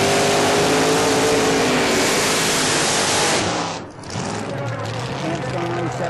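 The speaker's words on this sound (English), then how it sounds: "CJ7 Jeep powered by a small block aluminum Chevrolet motor with an automatic transmission" A drag racing Jeep CJ7 with an aluminum small block Chevrolet engine and automatic transmission roars at full throttle, a loud broadband blast that dips briefly near the end before carrying on.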